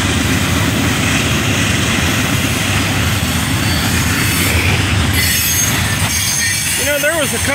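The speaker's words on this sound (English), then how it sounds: "I caught this coal train every day, loaded going up and empty coming back." An eastbound coal train pulled by five engines rumbles past steadily up close, with high metallic wheel squeals rising near the end.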